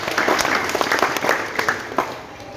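Loud, close applause fills a ballroom at a Christmas gathering in Manokwari, a crowd clapping briskly with distinct sharp claps that rise and fall in intensity before easing slightly near the end.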